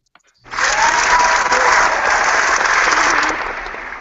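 Audience applause breaks out abruptly, a dense burst of clapping from a crowd that holds steady for about three seconds before tapering off.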